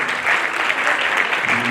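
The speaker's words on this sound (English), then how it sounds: "I think we should do one final applause for all those brilliant students from Sudan." Brief burst of audience applause for students at a health systems workshop, dense, even clapping from a room full of people with a faint voice at the end.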